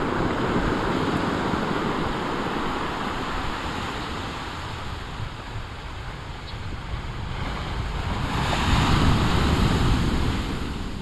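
Big waves break and surge continuously along the shore of Narragansett Bay at the URI Bay Campus, a loud, steady roar mixed with wind buffeting the microphone that swells toward the end.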